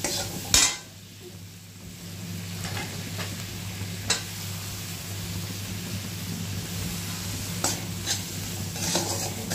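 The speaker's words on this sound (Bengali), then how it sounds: "ভালো করে এবারে কষিয়ে নিতে হবে একদম মশলাটা টমেটোটার সাথে" Spice masala and three small tomatoes frying in a pan on a low flame, a soft steady sizzle under a low hum, with occasional spoon scrapes and taps against the pan, no talk.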